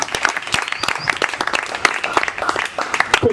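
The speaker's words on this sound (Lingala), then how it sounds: "avec vos acclamations, vos applaudissements, nous voulons débuter notre activité" An audience at a festive gathering in Kinshasa applauds, with dense, rapid clapping and some cheering voices mixed in, loud and close throughout.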